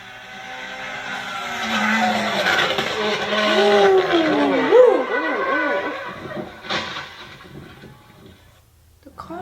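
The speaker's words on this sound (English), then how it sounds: "The car started screaming." A rally car engine screams at Croatia Rally 2022, rising revs and a sweeping pass swelling then fading, with people talking over it.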